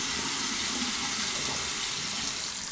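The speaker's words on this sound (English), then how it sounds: "just turn on the hot water." Hot water running steadily from a bathroom tap into a sink, a continuous broadband rushing hiss that stays loud and even throughout, with no voices.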